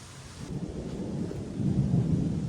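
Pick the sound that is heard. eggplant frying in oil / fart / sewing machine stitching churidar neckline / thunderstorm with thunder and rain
thunderstorm with thunder and rain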